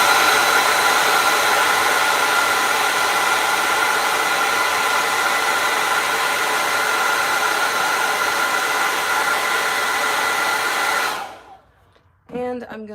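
A hair dryer blows steadily on wet acrylic paint for about eleven seconds, a loud continuous whooshing roar that cuts off abruptly, followed by a brief faint clatter.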